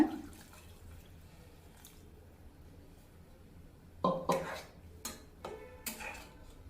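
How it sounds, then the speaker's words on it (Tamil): Water drips and splashes into a pot of okra tamarind curry, broken by several close metallic clanks of a spoon or lid against it. "குழம்புக்கு தேவையான தண்ணி சேர்த்துக்கோங்க"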